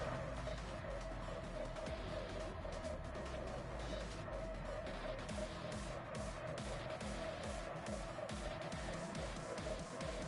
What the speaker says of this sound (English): You can already hear the engines being revved before we even get to looking at the grid.